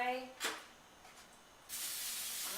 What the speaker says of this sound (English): So I use non-fat butter flavored spray.